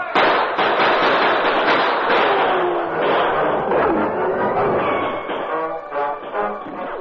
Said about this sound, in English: We have to shoot our way out of here.